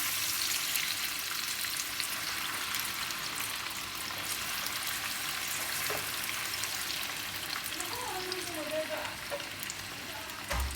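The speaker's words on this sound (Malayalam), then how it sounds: "അപ്പോൾ ഇത് പാൻ ചൂടായിട്ടുണ്ട് അതിലേക്ക് നമ്മൾ ഈ ഫ്രഞ്ച് ഫ്രൈസ് ഇട്ട് കൊടുക്കാം" French fries frying in a hot pan, a steady dense sizzle of bubbling oil throughout, close and continuous, with a few faint clinks near the end.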